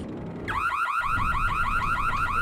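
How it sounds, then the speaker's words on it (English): A car alarm in Super Mario Galaxy kicks in abruptly and cycles through fast, rising and falling electronic whoops, loud and alone over a low background hum. "Did somebody's car alarm just go off?"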